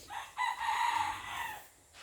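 A single close rooster crow, drawn out for about a second and a half, standing alone against quiet background.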